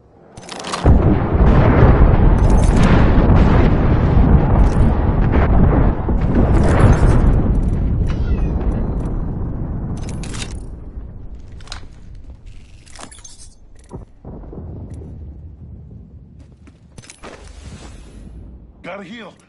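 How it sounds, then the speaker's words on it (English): An Apex Legends airstrike: a long run of loud, heavy explosions booming and crackling one after another, then fading into scattered debris and smaller blasts. "Signaling an airstrike. Airstrike coming above."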